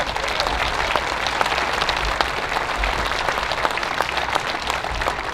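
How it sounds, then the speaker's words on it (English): A crowd at the Staal Foundation Open closing ceremony claps steadily and loudly, dense applause continuing evenly throughout with no voices standing out. "So a big round of applause for them."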